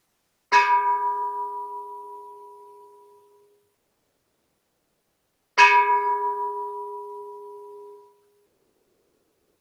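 Two separate strikes of a bowl-like meditation bell, each ringing out with a clear, sustained tone that slowly fades over a few seconds before the next.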